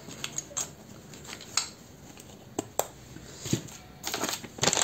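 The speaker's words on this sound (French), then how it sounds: "Alors ça, on va remettre les ciseaux dedans." Metal scissors set back into a craft kit for cloisonné-style painting, heard as a few light clicks and rustling knocks on a tabletop, close and fairly quiet, with no talking.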